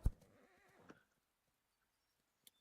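A horse in the video game Ecos: La Brea gives one short neigh after a sharp thump. Near silence follows, broken by a single faint click.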